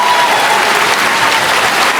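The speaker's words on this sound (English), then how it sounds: "can we give a round of applause for Mr. Tarzak, boys and girls?" Dense, even applause from an audience of boys and girls at a sixth grade promotion ceremony, honoring Mr. Adam Tarzak, loud and unbroken throughout with no talk over it.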